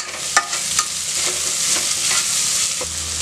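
Chopped onion sizzles steadily in hot oil in a pan with ginger-garlic paste and green chilies for a pressure-cooker soya chunk biryani, broken by a few sharp clacks of a spoon stirring against the pan.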